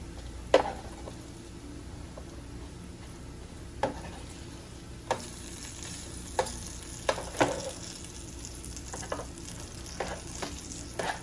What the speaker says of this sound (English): We're gonna go ahead and check on our bacon because we do want to flip it halfway through.